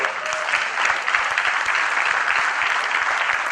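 An audience at a sales training session applauds the judge, a dense, even burst of many hands clapping at close range, steady and fairly loud for a few seconds with no voices.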